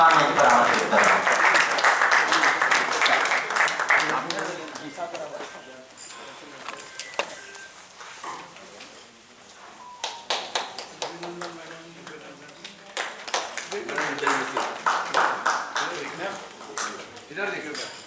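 Audience applause at the Zero Mile Icon Award 2024 ceremony, a broad wash of clapping that swells loudly at the start, thins out midway, then rises again in bursts toward the end.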